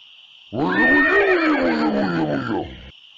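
A pony lets out one long, loud neigh that rises and then trails off, heard alone against a quiet background.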